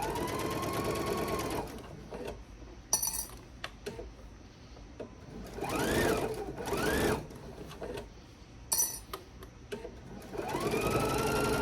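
A sewing machine stitches a seam on a reversible bag, running in whirring bursts that rise and fall in speed, with pauses and short stops between runs.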